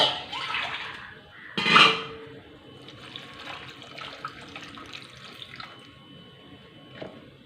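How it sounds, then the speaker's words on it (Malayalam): Water poured into a curry pot with curry leaves and salt, a brief splashy pour near the start followed by quieter trickling and small clinks. "കുറച്ച് വെള്ളം ഒഴിക്കുവാണേ"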